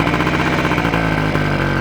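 A Soviet Voskhod motorcycle engine runs up close and loud with a steady, throbbing idle that shifts to a slightly different pitch partway through, with a brief dip near the end.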